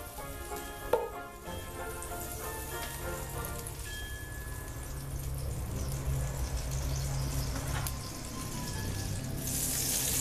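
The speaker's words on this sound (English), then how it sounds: "Hear that sizzle?" Steady crackling sizzle of butter melting in a cast iron Dutch oven heated over charcoal, with a faint clink at the start and the hiss building gradually.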